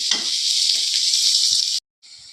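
Chopped large onion with curry leaves frying in oil in a pan while making eggplant kuzhambu, a loud steady close sizzle with faint stirring knocks, cutting off briefly and then resuming.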